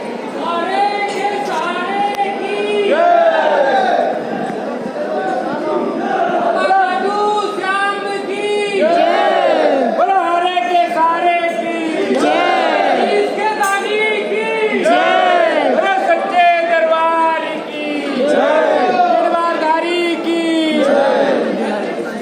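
Large crowd of devotees queuing at the Khatu Shyam temple, many voices close by, loudly chanting and calling out together in rising, wavering surges without a break.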